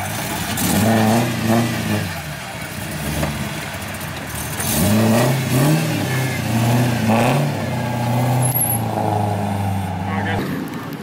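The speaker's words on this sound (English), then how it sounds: "listen to the exhaust" A drifting car's engine and exhaust rev and surge in repeated bursts at close range, rising and falling in pitch under loud chatter from people standing nearby.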